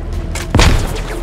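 A grenade goes off in the tactical shooter game Squad, one short, heavy boom with a low thud that rises out of steady background noise and fades within about half a second.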